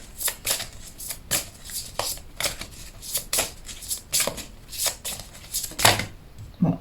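Tarot cards being shuffled by hand, a steady run of quick riffling, flicking bursts repeating about twice a second, close and fairly loud, with no speech over them.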